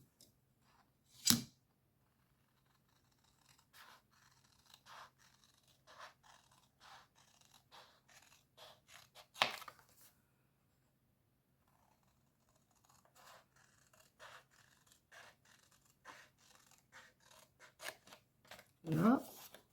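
Scissors cutting card for a handmade sketch card, a few sharp snips scattered among quieter scraping and rustling handling sounds, close and fairly soft.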